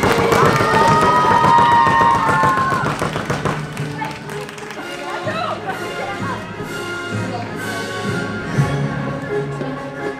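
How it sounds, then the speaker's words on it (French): A convention crowd at a cosplay contest claps and cheers for the prize winners, dense applause with whoops and shouts that stays loud throughout, an announcer's voice carrying over it. "Applaudissez-les bien fort."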